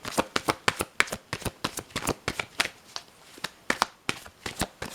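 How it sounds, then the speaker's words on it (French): Oracle cards are shuffled close up in quick, crisp bursts of riffling snaps, repeated rhythmically in short clusters at a soft level. "j'avais déjà fait un premier mélange, mais je vais continuer"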